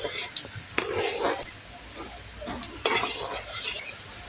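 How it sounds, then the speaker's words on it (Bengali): Chopped garlic and ginger fry gently in hot oil over low heat, giving a soft, steady sizzle broken by a few clinks and scrapes of a spoon stirring against the pan. "চুলার আঁচ একদম লোতে রেখেই আস্তে আস্তে রসুনগুলো ভেজে নিতে হবে।"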